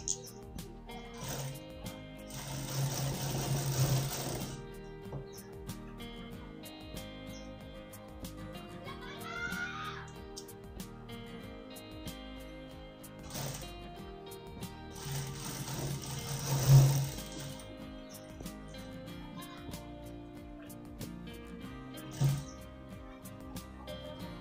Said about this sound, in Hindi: बैक वाले पार्ट को लेना है और इसको इसके ऊपर रखेंगे और शोल्डर पर सिलाई लगाएंगे।